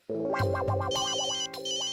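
An electronic phone ringtone plays a bright, warbling melody, loud and close, with no voices over it.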